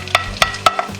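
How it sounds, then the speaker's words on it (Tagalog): Garlic cooks in a pan for goto, with four distinct scraping stir strokes at a steady rhythm over a low background sizzle, loud and close. "Lagay natin yung bawang. Mauna yung bawang."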